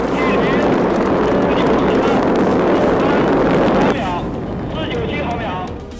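Roaring, broadband rush of a Chinese crewed spacecraft's launch vehicle lifting off from its steel tower, loud and continuous, dropping to a lower rumble partway through with faint voices underneath.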